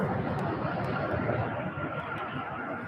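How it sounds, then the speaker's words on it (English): A UPS Airbus A300 jet lands on runway 17 right at UPS Worldport in Louisville, producing a loud, steady broadband engine roar that fades only slightly toward the end. "UPS Airbus A300. Landing on runway 17 right."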